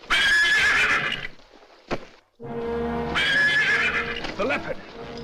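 A horse neighs loudly and close, a long shrill whinny, then after a short gap another whinny with snorts, alongside hoof movement.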